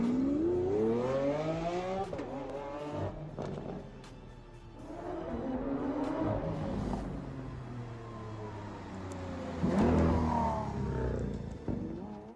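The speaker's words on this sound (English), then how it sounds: "here's a quick clip just to show you what it sounds like. Look at this thing coming down the road." A Lamborghini SVJ fitted with an FI exhaust drives past on a road, its engine revving hard through several rising pulls and gear changes, swelling loud as it nears and then easing off.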